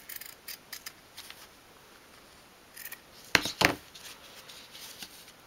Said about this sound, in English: Cut them away and then snip your corners off.